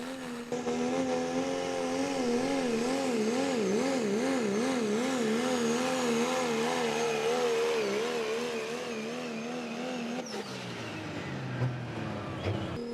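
The Barter Turbo Service pulling truck roars down the track at the 2023 Beast of the East truck and tractor pull, a loud, sustained engine wail wavering in pitch before cutting off and settling near the end.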